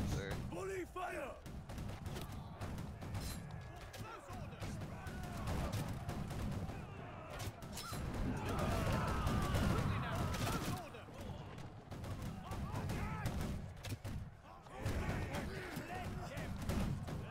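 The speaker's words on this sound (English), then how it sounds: "Keep formation. Advance. Volley fire." Musket volley fire from massed Imperial arquebusiers during a fjord siege battle in a video game, heavy overlapping gunfire crashes and booming salvos rolling continuously under shouted battle noise and voices.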